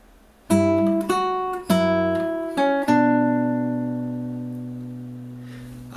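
A fingerstyle guitar plays measure 28 of a song from Toy Story 2, a few plucked notes and chords in succession, with the last chord left to ring and fade, close and clear.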